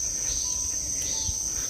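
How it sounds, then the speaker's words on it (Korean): Cicadas chorusing in a forest on Sudosan mountain in Gyeongju, a steady high-pitched drone holding constant across the clip, with no talking. "매미 소리가 합창을 하고 있습니다"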